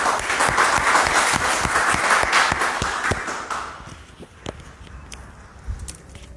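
An audience at a corporate product event applauds to welcome the company chairman and founder, a dense burst of clapping that thins out after a few seconds into scattered claps and rustle, with no talk.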